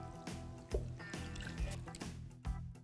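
Water is poured into a bowl to start Neapolitan-style pizza dough, giving soft close liquid splashes and drips with a few sharper knocks, quiet and without speech.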